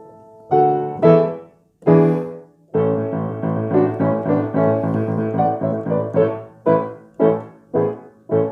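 A 1909 Richard Lipp 5ft 9in grand piano with a precise, clear tone plays chords clearly and alone, several struck separately before a flowing passage and a few ringing chords that decay at the end.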